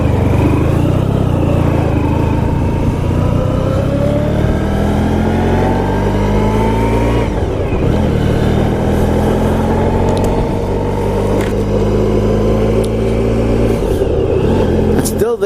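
A car approaching and passing a rider on a 1994 Honda ST1100 motorcycle, its engine drone rising and falling through shifting tones over the loud, steady motorcycle engine and wind rush.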